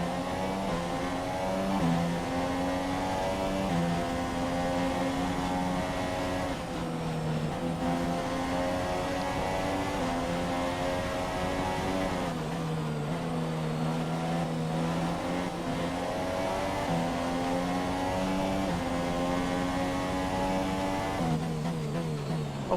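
Formula 1 cars, including a McLaren Honda, racing at the Malaysia circuit in the game F1 2017: a continuous high-pitched engine whine that rises and drops back through gear shifts every few seconds, loud and steady, with no talking.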